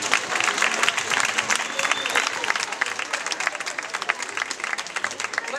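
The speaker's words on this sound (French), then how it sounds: "On applaudit très fort Nora Chedat Création." An audience at a fashion show celebrating Amazigh culture breaks into loud, sustained applause, a thick continuous roar of many hands clapping with some crowd noise mixed in.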